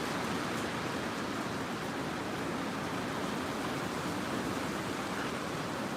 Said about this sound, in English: Y'all hear that rain?